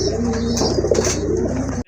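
A female Andalusian-coloured fancy pigeon in breeding condition coos steadily at close range, a low pulsing rumble running almost unbroken before cutting off abruptly at the end.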